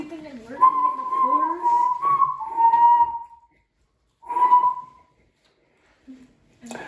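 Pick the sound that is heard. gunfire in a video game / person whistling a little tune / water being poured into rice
person whistling a little tune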